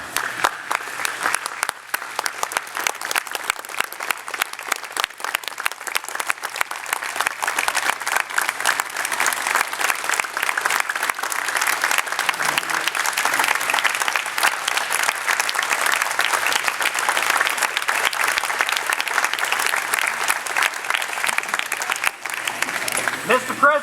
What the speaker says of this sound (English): give the commander the biggest round of applause that he could possibly ever receive